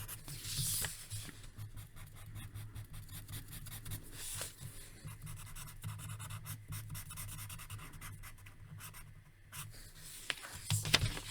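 Pencil drawing on paper for a Wolverine sketch: faint, steady scratchy strokes and light rubbing over a soft low hum, continuing for several seconds, close-up and quiet with no talk.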